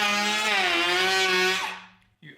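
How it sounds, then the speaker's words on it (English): A power planer cuts across a hickory live-edge slab, a loud, close, buzzing whine that shifts in pitch, then spins down and fades within about two seconds, followed by a brief thump. "the power planer seems to remove things relatively quickly"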